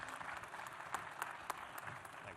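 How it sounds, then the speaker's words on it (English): An audience at a SaaStr 2025 summit stage session applauds a speaker, with steady clapping from many hands and a few sharper claps standing out. "All right, everybody, round of applause for Abbas."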